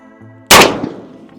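A single sharp blast from a Mossberg 990 shotgun firing buckshot cracks out loud and close, then decays quickly with a short ringing tail outdoors.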